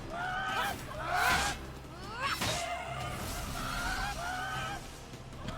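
Chickens in the video game Immortals Fenyx Rising give several squawking, honk-like clucks in separate bursts over a low ambient game background.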